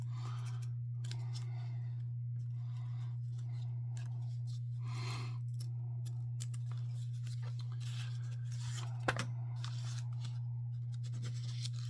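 Cardboard is being cut, a series of faint scraping snips and rasps over a loud, constant low electrical hum, with one sharper click near the end.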